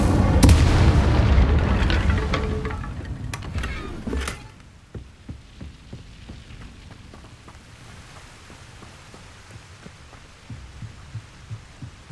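A fire spell cast in Hogwarts Legacy gives a loud, dense whooshing, rumbling burst for about four seconds, then a sudden drop to quieter, sparse thuds and low throbbing pulses.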